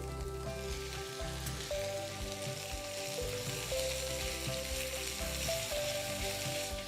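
Lamb mince browning in a pan over high heat, giving a loud, dense, steady sizzle and crackle like heavy rain, heard close up and uninterrupted with a faint tonal hum underneath.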